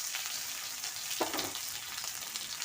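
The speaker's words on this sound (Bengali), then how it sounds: "ফোড়নের সাথে একবারে আলু ভালোভাবে ভেজে নেব।" Boiled potato pieces fry in a pan with tempered spices, giving a faint, steady hiss and sizzle throughout, with a brief stirring scrape in the middle.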